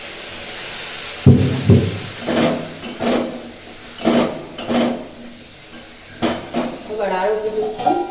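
Chilli paste made from ground chillies and water cooking in a kadai, giving a soft hiss and sizzle punctuated by several scraping, knocking stirs of a spatula against the pan.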